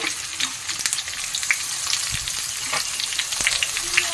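Potato, papaya and onion pieces fry in hot oil in a home kitchen, giving a close, continuous crackling sizzle with scattered sharp pops and no talking.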